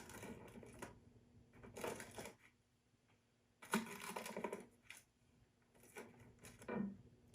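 A knife or cutter slices through a freshly baked whole plant foods pizza, giving several separate bursts of crunchy cutting and scraping with quiet pauses between them, close and fairly clear.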